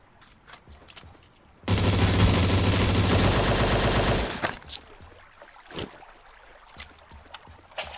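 Automatic rifle fire in a video game, a loud continuous burst of rapid shots lasting about two and a half seconds, with quieter game noises before and after.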